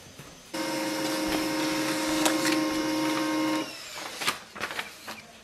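A Pantum M6507NW laser printer runs a test page, a steady close mechanical whir and hum lasting about three seconds before stopping, followed by a few clicks and clatters as the page feeds out.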